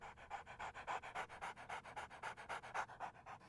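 A dog pants in quick, steady rhythmic breaths, close and continuous for several seconds, in a Hindi TV sitcom household scene.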